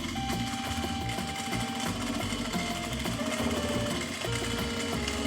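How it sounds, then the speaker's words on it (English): A sewing machine stitches pieces of a corset cut from a beach towel, running steadily with a dense rapid mechanical chatter close by for the whole stretch, with no talk. "So first, we sew the pieces together."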